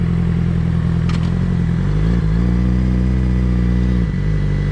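A 2007 Suzuki GSX-R 600 sport bike runs loud and close while being ridden, its engine drone holding steady with a couple of pitch shifts as the revs change, and no voices over it.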